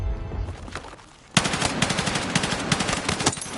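Rapid automatic gunfire from the M277 Carbine in Battlefield 6, a loud sustained burst that starts abruptly after a brief quieter lead-in with scattered shots, with no talking.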